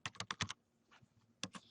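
Quick bursts of keystrokes on a computer keyboard, a rapid run of taps, a pause with light clicks, then two more taps, close and fairly quiet.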